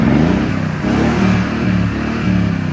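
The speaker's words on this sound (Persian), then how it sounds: "صدا اگزوز خرابه" A Mercedes-Benz car engine with a broken exhaust idles roughly with a loud, uneven low rumble and sputtering exhaust, pulsing slightly as it revs, close by with no talk.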